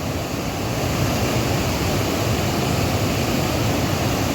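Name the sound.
waterfall with strong rushing current in monsoon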